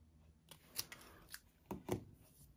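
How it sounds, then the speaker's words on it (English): Scissors snip through paper in a few crisp, quiet cuts while crafting, the sharp clicks spaced irregularly with small pauses between them. "I am just going to cut this with my scissors."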